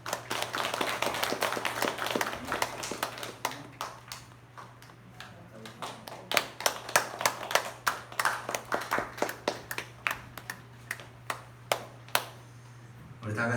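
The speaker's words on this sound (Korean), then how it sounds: "집사님에서 박수 한번 하겠습니다" A church congregation at a Korean Sunday worship service claps, dense at first and thinning into a looser, rhythmic patter of individual claps over a steady low hum, with some voices mixed in.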